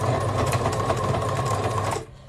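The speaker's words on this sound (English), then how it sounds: "So I'm just stitching just the elastics together." Sewing machine running a zigzag stitch to join elastic bands for a scrunchie, a steady close rapid whirring hum that continues for about two seconds and then stops abruptly.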